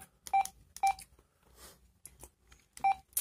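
Several short electronic button beeps from a Retevis RT36 walkie-talkie, clipped and evenly pitched, sound in quick succession with brief pauses between them, close by and fairly quiet.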